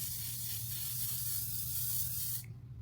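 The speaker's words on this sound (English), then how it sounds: "Let's go ahead and spray our face." Setting spray is misted onto a face in one steady hissing burst lasting over two seconds, close and fairly loud, and then it stops.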